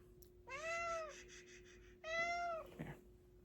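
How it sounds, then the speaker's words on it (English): A cat gives two clear, drawn-out meows close by, separated by a brief pause, followed by a short rustle in an otherwise quiet room. "Kitty."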